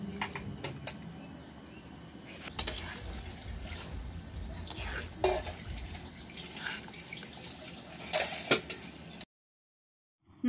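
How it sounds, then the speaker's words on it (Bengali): Boiled mutton pieces stirred into simmering gravy for mutton kosha, with soft wet bubbling and scattered spoon scrapes and clinks at low level, ending in silence. "মাংসগুলোকে ভালো করে গ্রেভির সাথে মিশিয়ে নেওয়ার পর"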